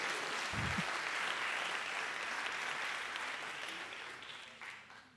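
Audience at a live stand-up comedy show applauding, a dense, steady wash of many hands clapping that fills the room and then thins and fades toward the end, with no talk over it.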